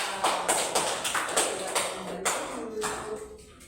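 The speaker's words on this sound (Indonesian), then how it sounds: "Tepuk tangan." Children in a classroom clap together in a quick burst of applause, a run of close hand claps with rhythmic peaks that fades toward the end, with faint voices underneath.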